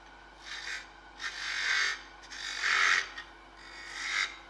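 A hand tool scrapes across a wooden end grain box in a woodturning shop, producing four rasping strokes in a slow back-and-forth rhythm, close and moderately quiet, with no voices.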